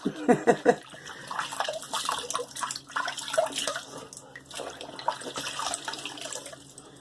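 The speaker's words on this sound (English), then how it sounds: "Let me rinse it off, even though I don't want to." Running water rinsing shaving soap off after a wet shave, a steady close splashing stream like a tap into a sink, with a few louder splashes at the start.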